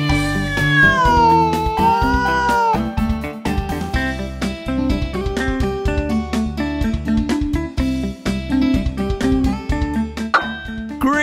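A cat meows and caterwauls loudly and repeatedly in long, drawn-out, pitch-bending cries that overlap one another, with no speech.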